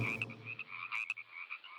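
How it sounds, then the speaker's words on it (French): A frog croaks in a quick series of short, raspy calls, close and fairly quiet, with faint low background noise fading out early. "Les grenouilles peuvent communiquer entre elles. On dit qu'elles coassent."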